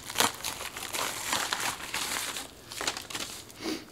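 Wrapping on a Christmas gift package being torn and crumpled open, close crinkling and ripping bursts in an uneven rhythm, loud then easing off.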